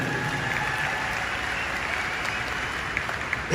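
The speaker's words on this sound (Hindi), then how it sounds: "एक जोरदार ताली आप लोग अपने लिए बजा दीजिए।" Sustained audience applause fills a speech event hall, steady dense clapping from many people throughout with no talk over it.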